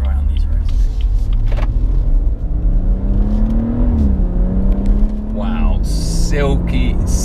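A BMW M140i hatchback pulls away. A loud, steady engine drone climbs in pitch as it accelerates, with a heavy low rumble inside the cabin throughout.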